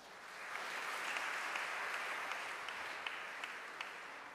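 A church congregation applauds during an icon blessing at St. Gabriel, a soft, sustained wash of many hands clapping, heard from some distance and swelling slightly before holding level.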